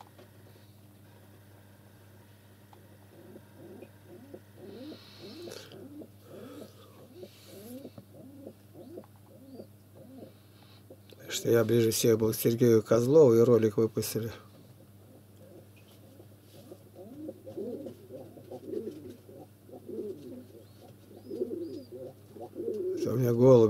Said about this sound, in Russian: Это у меня голуби воркуют рядом.